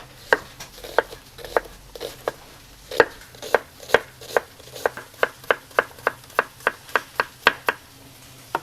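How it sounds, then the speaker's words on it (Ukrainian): Onion being chopped quickly on a board beside a pan of frying mushrooms, a steady run of about twenty sharp knife strikes that speed up and grow more even toward the end, close and clear with no talking. "я швиденько нарізаю цибулю"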